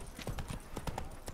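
Roach the horse from The Witcher 3: Blood and Wine trots along with a steady run of close clip-clopping hoofbeats, one after another, with no one talking over them.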